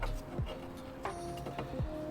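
Cordless impact wrench removing 14 mm bolts from the front suspension of a crusty Mazda MX5, giving repeated short rattling bursts that start and stop in a quick, close-up workshop rhythm.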